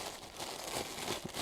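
A cabin air filter for a Subaru Outback crinkles in its plastic bag as it is unwrapped, giving a steady, close, soft rustle with a few sharper crackles and no talk.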